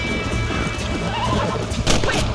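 A horse whinnies loudly and close in Red Dead Redemption on PC, a short neigh rising over clattering hooves and thuds in a busy game scene.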